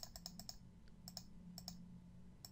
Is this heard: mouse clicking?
yes